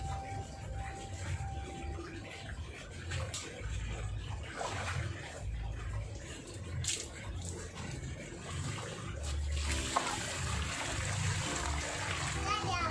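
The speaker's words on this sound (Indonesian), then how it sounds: "itu kita siram." Water splashes and trickles into soil in a potted grape plant, a continuous wet pouring under ongoing conversation, with a voice in places.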